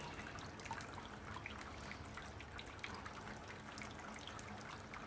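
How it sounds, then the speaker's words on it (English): Steady, gentle trickling of water through a grain bed during home-brew sparging, with soft continuous splashing, close by and fairly quiet, with no voices. "you just try and match up the amount of water going in to the amount of water going out"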